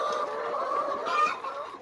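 Chickens on a poultry farm in Bangladesh give soft, overlapping clucks and murmurs, a steady, moderately quiet flock sound with no clear speech.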